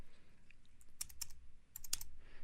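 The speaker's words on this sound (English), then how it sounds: "I'm going to type in a number." Quiet keystrokes on a computer keyboard as a number is entered, a few scattered taps followed by two tight clusters of clicks, close and clear with no talking.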